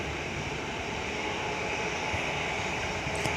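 An airliner taxiing outbound at Perth airport, a steady distant jet engine rumble and whine holding evenly with no talk over it.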